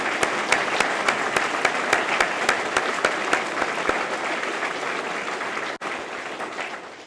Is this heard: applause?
yes